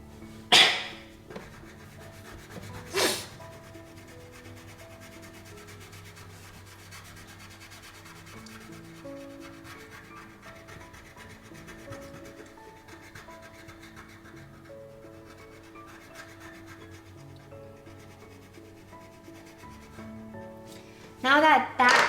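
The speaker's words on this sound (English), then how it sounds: "we are going to take out our peach and color the muzzle" A peach crayon rubbing back and forth across paper while coloring a giraffe drawing, a soft continuous scratchy stroking up close, with a voice talking at the start and end and a few louder knocks.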